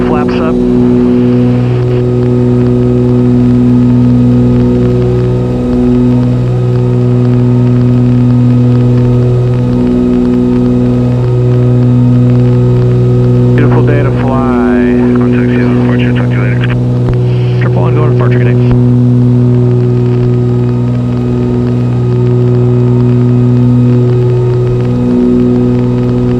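Aerostar twin-engine aircraft at takeoff power through rotation and climb, a steady loud droning hum with strong tonal bands, a short burst of voice mid-way over the constant engine noise.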